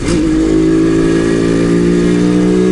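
An old motorcycle engine runs steadily while riding on an evening road, a loud, close, continuous low drone with strong harmonics throughout and no talk.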